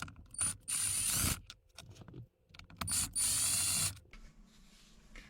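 Torx screws are backed out of a Tesla screen mount with a ratcheting driver, giving close bursts of fast clicking and whirring separated by brief pauses, then a quieter tail.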